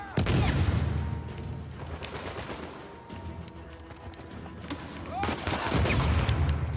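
Gunfire in the Uncharted 4 video game, repeated loud bursts of automatic shots and booms that dip midway and then build again, with a voice talking over the shooting.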